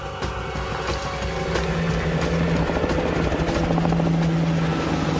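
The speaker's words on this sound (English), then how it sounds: "helicopters are coming in" Helicopters coming in on an outdoor set, a steady rhythmic rotor thump and engine drone that grows gradually louder as they approach, with no talking.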